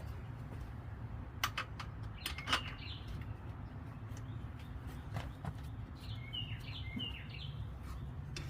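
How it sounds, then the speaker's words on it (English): Songbirds chirp and call on a spring day outdoors near a classic Toyota pickup under brake repair, with several brief high tweets and trills scattered over a steady low background rumble. "I know it's springtime, you hear all those birds?"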